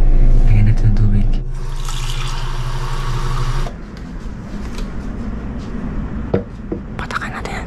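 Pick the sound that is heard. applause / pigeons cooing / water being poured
water being poured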